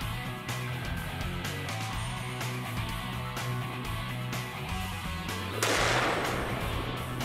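Gunshots from a Magnum Research .44 handgun sound as several sharp reports over a steady background hum, followed by a louder, brighter burst near the end.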